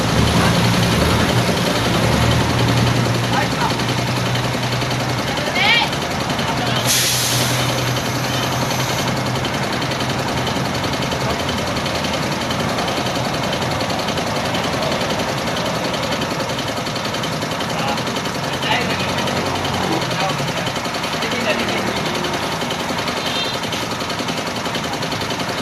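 A steady, heavy rumble of trucks and other large vehicles runs along a highway lined with vulcanizing shops, a continuous low engine drone with passing swells and no clear voices.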